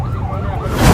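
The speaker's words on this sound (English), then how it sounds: "sirens raged" A brief burst of a wailing emergency siren, its pitch wavering, heard loudly for about a second.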